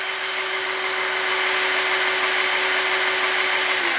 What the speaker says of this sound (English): insert your hex bit on your cordless drill here and turn it clockwise to retract the room